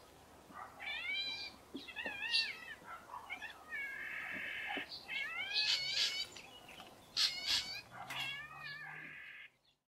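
A fork-tailed drongo mimics a cat's meow, giving a series of clear, wavering mewing calls mixed with higher whistled notes against faint outdoor background.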